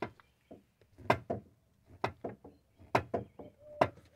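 Knocking from inside a car door panel as the door is moved, a series of hollow, irregular wooden-sounding knocks and clunks, loud and close, heard alone without talk.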